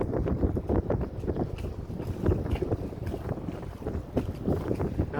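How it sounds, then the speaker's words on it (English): Strong gusty wind buffets the microphone out on the water near boats, a rough, fluctuating roar with no talk. "Pretty strong wind today."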